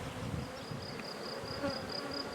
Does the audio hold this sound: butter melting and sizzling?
no